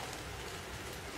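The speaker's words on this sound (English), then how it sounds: "It's a rainy fucking day." Steady rain falling on a gloomy, fairly warm day, a dense, even hiss of drops filling the background without pause and no voices.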